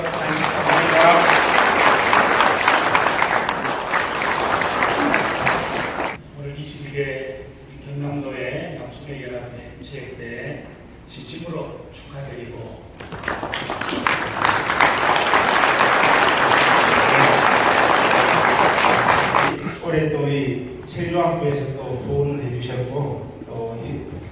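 Applause from a crowd at a church men's association sports day, loud sustained clapping in two long bursts with quieter murmuring and talk in between.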